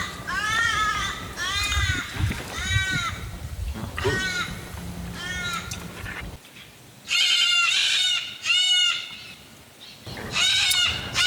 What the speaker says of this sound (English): It's a very noisy bird here, I don't know what it is, but might be a crow